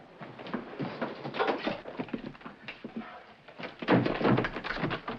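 Someone knocks and thumps on a door in a 1940s film noir crime thriller scene, a series of irregular dull bangs and taps in uneven bursts, growing heavier toward the end, with no talking heard.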